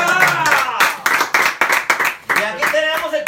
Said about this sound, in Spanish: ¡Un aplauso a Tristán!